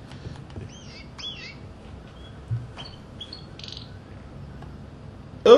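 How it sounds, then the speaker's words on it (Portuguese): Bird chirps in the video game Heavy Rain: several bright, clear tweets and short chirp phrases over a quiet ambient background, moderately close, with a brief thump near the end. "Opa! Passarinho bonito, hein?"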